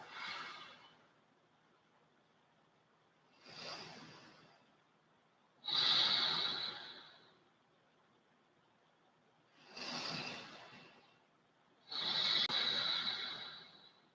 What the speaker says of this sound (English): just stay here for 3 deep breaths